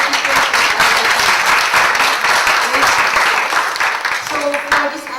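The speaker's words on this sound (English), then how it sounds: "So let's all give a warm applause to our speakers." An audience at a National Science and Technology Week 2018 session in the Philippines claps for the speakers, a dense, continuous round of applause with voices mixed in, tapering slightly toward the end.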